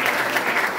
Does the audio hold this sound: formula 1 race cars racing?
no